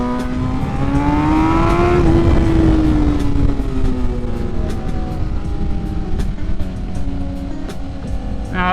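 A BMW S1000RR sportbike rides fast through corners, its engine note rising and falling under heavy wind roar, close and loud throughout with no talk.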